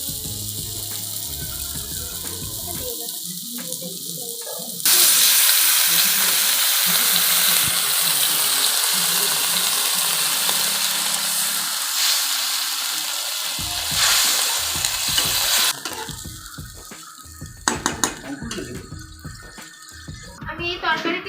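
Paneer and potol curry frying in oil, a loud bright sizzle swelling partway through with scraping stirs, close, then giving way to clattering and a voice talking near the end.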